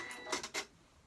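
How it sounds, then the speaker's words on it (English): Janome 500e embroidery machine stitching a row around a heart on an in-the-hoop project, heard as a few quick, faint mechanical clicks and whirs close together, then quieter. "it's coming round to doing the first row of stitches around the heart"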